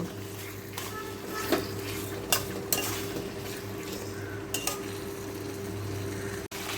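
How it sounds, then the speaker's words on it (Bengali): Chicken coated in spice paste is sautéed slowly in a pan, a soft, low sizzle under occasional spatula scrapes and clinks, with a steady hum running beneath. "পুরো মাখিয়ে দিলাম মশলার সাথে মাংসটা এইভাবে মাখিয়ে আস্তে আস্তে কষিয়ে নেব"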